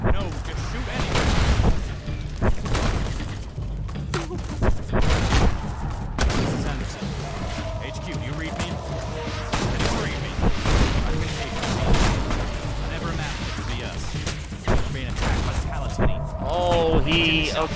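Rapid bursts of gunfire and booms crackle through a firefight in the modded game Fallout: New Vegas, repeated shots and heavy fusillades layered over a dense battle din while a voice talks throughout.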